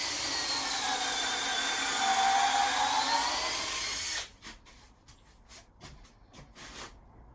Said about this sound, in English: I'm just drilling through three bolts to a side